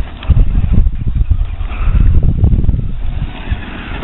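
A Traxxas T-Maxx 2.5 RC truck converted to electric power whines and revs in repeated surging bursts, its motor loud and close throughout, with no voices.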